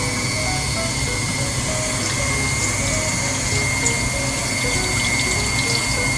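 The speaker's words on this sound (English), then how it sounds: "So first we're gonna add some water." Water poured into sponge cake batter, a continuous close splashing hiss over a steady mechanical hum, with no talking.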